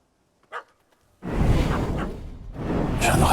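A dog in The Witcher 3 video game gives a short yelp, then barks in a loud, close, rough burst that trails off and swells again.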